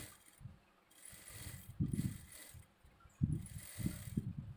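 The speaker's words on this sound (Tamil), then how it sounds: "உள்ளே உள்ள லைனிங் துணி வந்து நகராமல் இருக்கிறதுக்கு நான் மேல் தையல் ஒன்று போட்டுக்கிறேன்" A sewing machine topstitches the lining of a size 38 blouse, its close mechanical whirring and clatter running in short bursts that start and stop.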